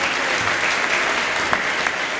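An audience at a church gathering bursts into dense, loud applause, a steady wash of many hands clapping close together for about two seconds with no voice standing out.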